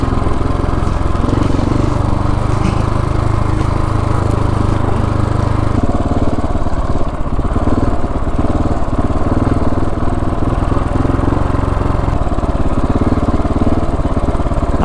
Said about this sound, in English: I'm trying to just ride the 701 without taking Kyle's bike